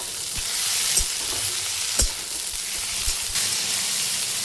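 Tomatoes hit a pan of onions fried with spices for chicken boti masala, a dense steady sizzle with a few sharp spatula knocks and stirs, close and loud.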